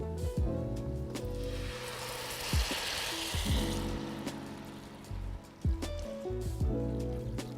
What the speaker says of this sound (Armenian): հենց հիմա այս պահին մենք կավելացնենք եռացրած ջուրը